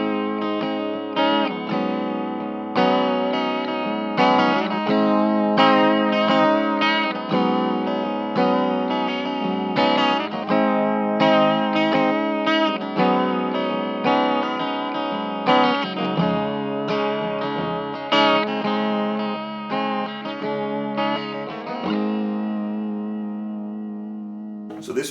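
Guitar through a Walrus Audio Julia chorus pedal, strummed and picked chords with a wobbly, shimmering pitch vibrato blended with clean tone, sustained and steady before a final ringing chord.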